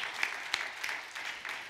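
Church congregation applauding during a sermon, a brief, fairly faint patter of clapping with a few sharper claps.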